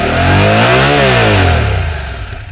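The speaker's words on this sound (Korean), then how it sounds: "이게 사실 배기음이 전 처음에 많이 실망스러웠거든요." Yamaha YZF-R7 motorcycle exhaust revving loudly close by, one rev sweeping up and falling back with a rough, throbbing note, no voices.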